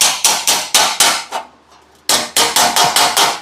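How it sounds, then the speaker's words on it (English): Sharp metallic planishing hammer blows shape metal in a quick, even rhythm, stop briefly, then resume with another run of ringing hits. "your planishing hammer and you can kind of shape this"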